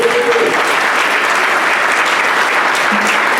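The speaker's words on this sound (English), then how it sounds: "Let's give her a round of applause." Steady audience applause at a Rotary club meeting, dense and sustained throughout as a speaker comes up to the stage, with no talk over it.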